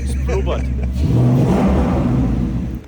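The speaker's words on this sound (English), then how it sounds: "how this beautiful Remus exhaust actually sounds" A Ford Mustang Dark Horse fitted with a Remus exhaust revs up, a deep close burbling roar swelling after a brief idle and holding loud before cutting off, with a voice heard briefly at the start.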